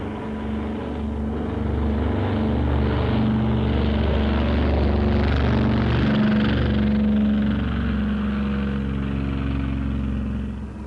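A loud propeller aircraft engine roars continuously as a plane takes off from an aircraft carrier deck, swelling and holding at full power for several seconds before easing off slightly at the end.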